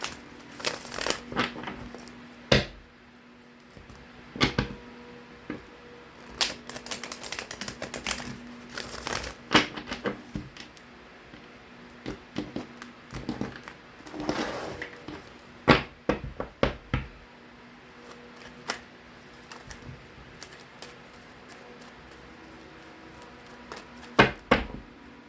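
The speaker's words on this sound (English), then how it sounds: "Let me get you some good shuffles in." A Rider-Waite tarot deck being shuffled by hand, heard as repeated crisp flurries of card riffling and slapping. The clicks come in irregular bursts with short quiet gaps between them, close up, and no one talks.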